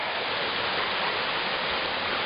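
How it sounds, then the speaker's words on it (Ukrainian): The Sukil river tumbles over waterfalls in the Carpathian mountains, a steady, full rushing roar of water heard up close with no voices. "річка або потік Сукіль."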